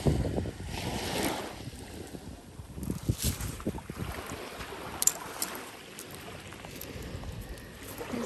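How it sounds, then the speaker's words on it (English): Surf rolls and crashes onto Turner Beach on Captiva Island, a shell-strewn Gulf shore, with rushing wash of waves at close range mixed with gusty wind buffeting the microphone, rising and falling over several seconds. "I know the waves are kind of loud."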